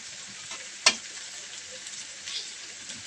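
Small fish spread out evenly in a hot pan to fry: a steady, bright sizzle of oil with one sharp clack of a utensil and a small swell of spattering later, no voices.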